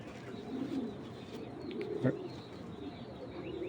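Pigeons, including Giribaj and Madrasi breeds, coo softly inside a loft, low throaty calls rolling over a dull room background with a few faint chirps.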